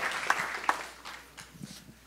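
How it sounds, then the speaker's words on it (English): Faint applause from a congregation at a church anniversary service, a soft wash of clapping that fades over about two seconds. "Can you give them a round of applause?"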